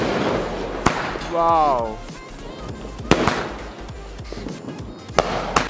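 A 15-shot firework cake fires at a Diwali celebration, giving several loud, sharp bangs spaced a second or two apart and one rising whistle, while a person exclaims nearby.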